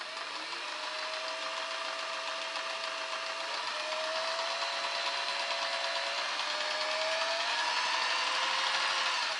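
A Singer Model 404 sewing machine runs steadily with a whirring mechanical hum that rises gradually in pitch as its speed increases, close and moderately loud with no talk.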